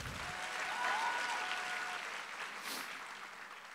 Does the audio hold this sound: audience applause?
yes